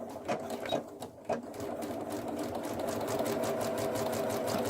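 A sewing machine running a steady top stitch at about 1/8 inch on fabric for a bunny gift bag, with a few brief stop-start bursts, then a continuous close mechanical whir.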